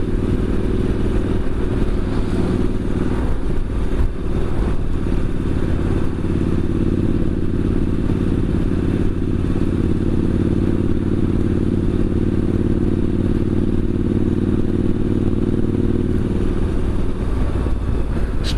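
A Triumph Street Scrambler 900 motorcycle fitted with a Vance and Hines exhaust with an adjusted baffle, its engine rumbling deep and loud at a steady idle for the whole stretch, with a little mechanical clatter and no voices.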